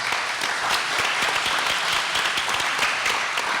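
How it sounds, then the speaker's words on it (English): Steady applause from an audience at a district budget town hall, honoring a man named Vincent; dense, continuous clapping fills the room at an even level throughout. "Y'all give Vincent a round of applause."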